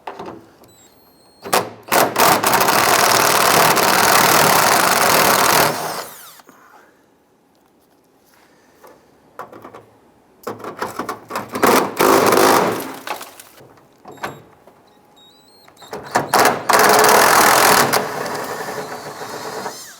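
A power tool whines in three long bursts, loosening and removing 8mm nuts along the top of a 2002-2008 Dodge RAM grille, with short pauses, faint clicks and handling noise between the runs.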